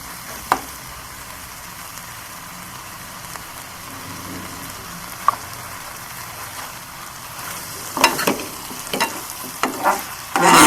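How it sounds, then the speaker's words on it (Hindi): Capsicum and onion fry with chicken in masala over a medium flame, a low continuous sizzle with sparse spatula knocks, building into quicker scraping and clattering stirs near the end, close with no voices. "तीन से 4 मिनट के लिए मैं इसे फ्राई करती रहूँगी, ताकि मेरी जो शिमला मिर्च और प्याज हैं वो थोड़े नरम हो जाएं"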